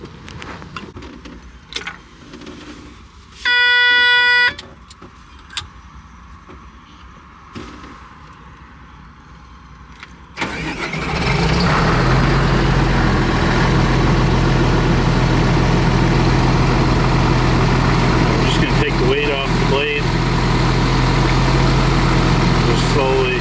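CAT D6 bulldozer engine cranks and fires up after some cab clatter and a brief warning tone, then settles into a loud, steady low diesel rumble, close by, with a few knocks over it.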